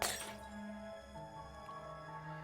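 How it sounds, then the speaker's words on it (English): Teapots and vases crash and shatter on the floor as a table is slammed in a video game, a sharp burst of breaking crockery at the start fading quickly under a sustained musical drone. "Genzo slams the table, sending teapots and vases hurling to the ground and shattering"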